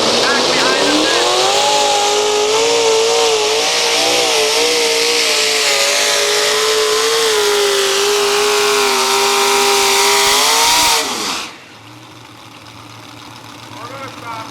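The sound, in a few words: tractor engine revving at a truck and tractor pull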